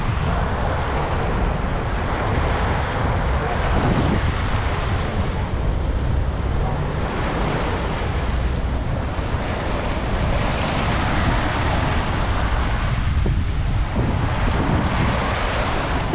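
Waves washing onto the Manila Bay shore with wind buffeting the microphone, a loud continuous roar of surf and gusts that never lets up.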